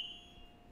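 A smoke alarm set off by burnt eggs, holding a steady high-pitched electronic tone through a building at a fairly faint level, with no speech.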